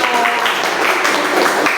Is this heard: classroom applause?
yes